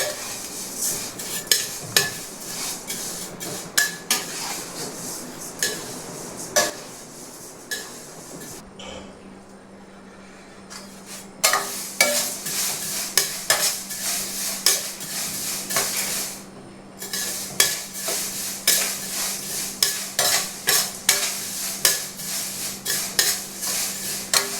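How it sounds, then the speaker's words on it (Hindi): Vermicelli being stirred and dry-roasted in a kadhai: a spoon scrapes and clinks against the pan in steady repeated strokes, close and clear, with a brief quieter pause partway through. "तो ये जवे तो गए भून"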